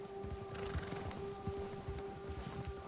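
A horse startled by a bear in Red Dead Redemption 2, its hooves clopping steadily at close range over a constant tonal hum and low rumble, with faint whinnying mixed in.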